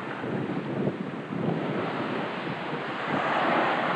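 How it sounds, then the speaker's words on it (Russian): Stormy sea surf breaking steadily at the 1994 seaside settlement of Rakushka, a loud continuous roar of waves with wind buffeting the microphone and no voices. "на море шторм, здесь прибой"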